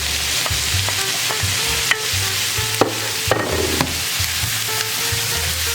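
Mushrooms sizzle in a pan, a loud steady frying hiss broken by a few clattering tosses and stirring knocks.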